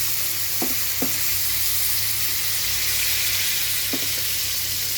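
Curry leaves and cumin sizzle steadily in hot oil, a close, bright frying hiss with a few soft pops and clinks of a utensil in the pan.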